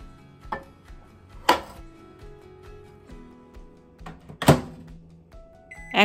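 Bowl of salted chicken being placed into a microwave oven, with a few sharp thunks and clatters of the bowl and door, two louder knocks standing out against a quiet kitchen background.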